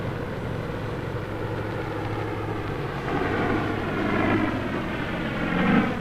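A Piper Cherokee light aircraft at Orange County Airport around 1970 is readying for takeoff, its propeller engine giving a loud, continuous droning roar that swells slightly toward the end.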